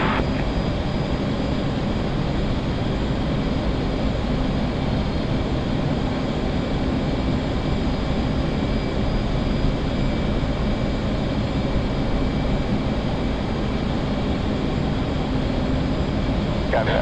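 A military aircraft takes off from a short runway at Kandahar, its engines producing a steady, loud, unbroken roar that holds at the same level throughout, with muffled crew voices faintly underneath.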